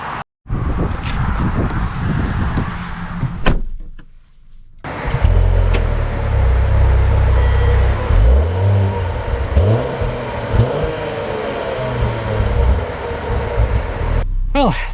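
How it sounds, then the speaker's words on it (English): A 2025 Range Rover Velar Dynamic SE with a 3.0-litre turbo engine pulls away, its low engine note rising and settling under steady road rumble and cabin noise, with a brief pause before the drive begins. "let us set off in the Velar"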